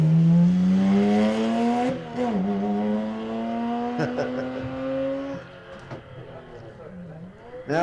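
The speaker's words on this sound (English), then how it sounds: "have a listen to this Volkswagen Type 3" A Volkswagen Type 3 race car at a historic sprint meet on a track revs loudly, its engine note climbing steadily through the gears with brief drops between shifts before it fades away.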